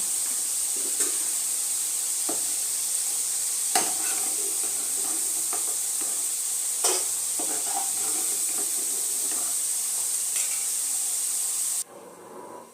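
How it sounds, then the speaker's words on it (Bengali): Potatoes fry in oil with a steady, close sizzling hiss, broken by occasional light stirring clicks and scrapes, before the sizzle drops off at the end. "আলুটা দেখুন আমার হালকা করে ভাজা হয়ে গেছে"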